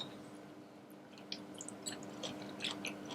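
Close, faint crunching and squishy bites from someone chewing crunchy fried okra (lady finger) served with ikan garam masam, scattered wet crackles over a low background hum.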